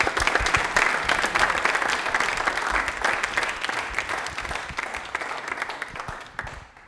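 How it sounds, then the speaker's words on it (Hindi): Loud, vigorous audience applause in a television quiz studio, many hands clapping fast and dense from close by, holding strong for several seconds before thinning and tapering away at the end. "तालियां बजा दीजिए एक बार जोरदार वाली।"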